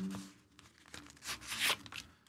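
Paper liners rustling and tearing inside the packaging of a genuine leather wallet and document holder, crisp crinkling bursts building to a louder rip near the end, close and alone.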